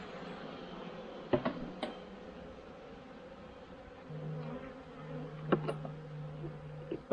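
Honeybees buzz in an opened hive during a Formic Pro treatment, a steady, close drone broken by occasional knocks and clicks of the hive.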